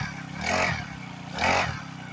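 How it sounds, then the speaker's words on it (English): A SYX Moto MT-2 40cc kids dirt bike engine runs quietly, rising twice in brief revs over a low, soft idle, heard close. "You're not going to make any of your neighbors angry driving this."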